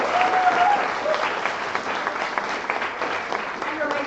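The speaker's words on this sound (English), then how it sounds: "So just once again, a big round of applause for these amazing girls and for all the projects." Audience applause at a national assembly in Wrocław after student presenters finish, a dense, steady clapping from a large room that lasts the whole stretch at an even volume.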